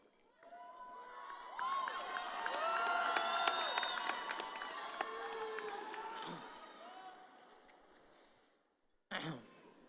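A high school graduation crowd at Canyon Springs High School erupts in cheering, whistles and applause that swell for several seconds and slowly die away, followed by a short burst of voices.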